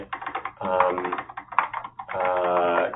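Rapid clicking keystrokes on a computer keyboard during a Rust coding interview, in close bursts with brief pauses and a voice-like tonal layer.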